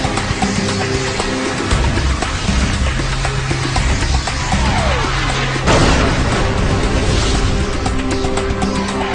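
Surface-to-air missiles striking a formation of decoy aircraft, a loud, dense barrage of rumbling booms and bursts with a sweeping streak and a sharp blast midway, continuous and close.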